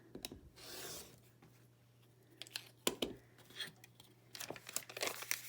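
Fabric being trimmed along a paper-pieced quilt block section, heard up close as a quick series of rubbing and crisp cutting rasps against paper with brief pauses, alone without speech.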